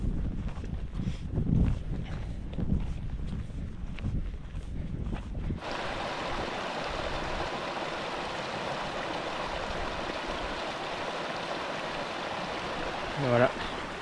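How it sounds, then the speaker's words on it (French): A small, calm mountain stream in the Massif Central flows with a steady soft rushing; rough wind buffeting and handling noise in the first part give way to an even, continuous water sound. "Le petit ruisseau tout tranquille qui va faire une belle cascade après."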